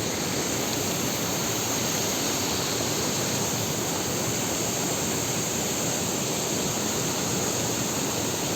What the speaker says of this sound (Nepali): यो चाहिँ ठुलो खोला हो